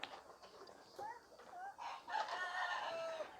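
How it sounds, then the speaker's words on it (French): A village rooster crows several times in drawn-out calls, fairly faint and a little distant, with other fowl clucking around it. "je supporte pas les coqs qui chantent toute la nuit"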